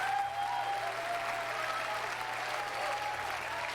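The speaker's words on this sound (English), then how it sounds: "It's like a really excited crowd there." A large, excited crowd at the PAX East 2019 gaming convention applauds and cheers, a steady wash of clapping heard from a distance at low level, with a faint tonal whistle or hum running underneath.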